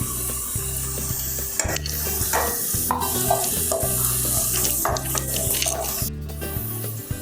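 Cabbage, beans and capsicum fry with onions in a pan for beef rice, a close continuous sizzle with repeated scraping stirs and clatter, while a low humming tone runs in short repeating bursts beneath.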